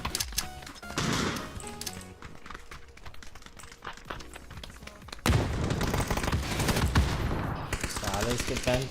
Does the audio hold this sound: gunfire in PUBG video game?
yes